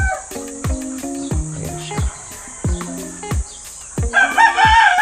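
Several crows from two-year-old Boston Black crossbreed chickens on a backyard farm, arriving in repeated bursts with falling tails and overlapping calls, fairly close, with a brief cluck-like flurry near the end.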